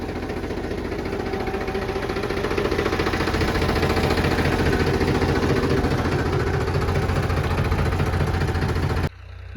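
A tractor engine runs steadily at close range in a farm field, a low rumbling drone with mechanical vibration, swelling slightly before cutting off abruptly near the end.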